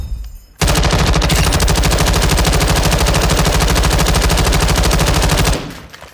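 A Fightlite MCR belt-fed machine gun, mounted on a bipod in Call of Duty Modern Warfare II, fires one loud, sustained automatic burst of about five seconds with a rapid, even rhythm of shots, then stops abruptly.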